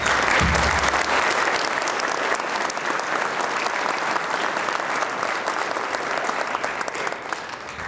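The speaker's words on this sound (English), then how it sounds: "Let's give him a round of applause." A crowd at a state park celebration applauds steadily for several seconds, a dense wash of clapping that holds level throughout with a few low thumps at the start.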